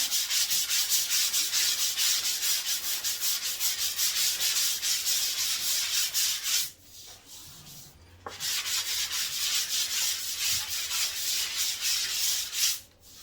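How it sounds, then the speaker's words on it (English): Continuous hand rubbing and shaving down a plaster surface, a steady dry scraping that runs alone and close, pausing briefly midway before resuming. "Shaving everything down."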